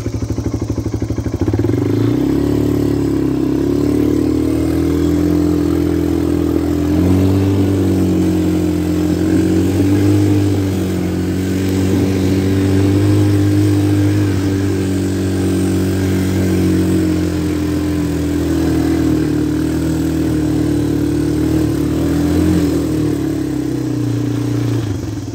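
A four-wheeler ATV engine drones steadily and close while being ridden, its low throbbing note rising and falling slightly with throttle over a constant rumble and clatter, no talking.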